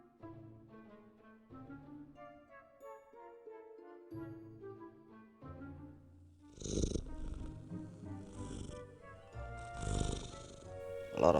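Sleeping cat purring in the Harry Potter: Hogwarts Mystery video game, a soft rumbling purr under gentle game music, growing louder with breathy snore-like swells in the second half.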